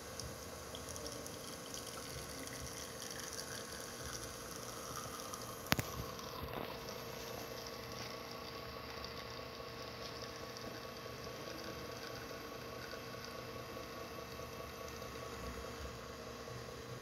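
A steady mechanical hum with a watery gurgle runs throughout, broken by a single sharp click partway through, as a Quick Mill Vetrano espresso machine's pump pulls a shot.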